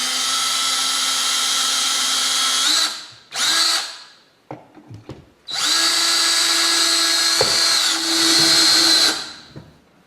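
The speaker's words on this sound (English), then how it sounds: "Drill a couple of pilot holes." A power drill bores pilot holes into a wall in loud, steady bursts, a long whine that stops, a short blip, a few faint clicks of handling, then another long sustained run that winds down.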